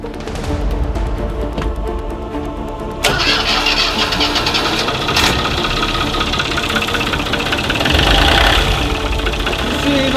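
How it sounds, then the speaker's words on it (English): An engine cranks and starts, then revs and runs loudly with rough, knocking surges, a sharp jump in loudness partway through and a rising rev near the end, heard close with brief voices. "come back and rev those engines"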